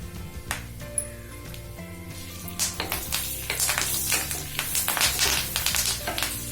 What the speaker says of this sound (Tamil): இப்போ இதோட கருவேப்பிலையும் சேர்த்துக்கிறேன்.